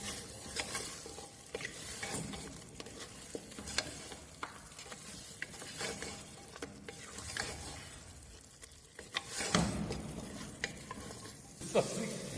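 Kashmiri curry being stirred in a hot pan, with repeated scraping strokes of a spoon over a continuous sizzle and fry, plus scattered clinks of the utensil against the metal, heard alone.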